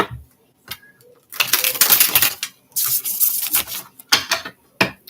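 Tarot cards riffle-shuffled in several bursts, crisp papery flutters of a second or so separated by brief pauses and a few sharp taps, close and moderately loud with no talking.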